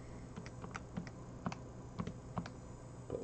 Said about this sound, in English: And we type it in as simple as that.